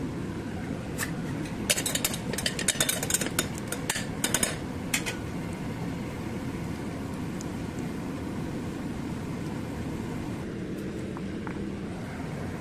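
Fennel and cumin seeds splutter and crackle in hot sesame oil in a pan, with a burst of sharp pops and sizzles over the first few seconds, then a steady frying hiss that carries on alone.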